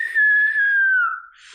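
A person whistles with their voice, imitating a loud falling whistle: one long, high tone that slowly drops in pitch, then breaks off into breathy noise.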